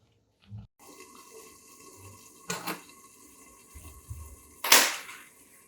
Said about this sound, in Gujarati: ઉપર થાળી ઢાંકી અને એના ઉપર થોડું પાણી રેડી